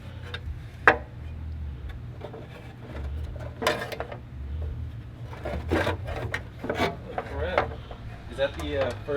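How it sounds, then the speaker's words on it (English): A very old jigsaw runs with a low motor hum under irregular rasping, scraping bursts as it works, close and moderately loud throughout. "This is Fred Flintstone's jigsaw. And it still runs."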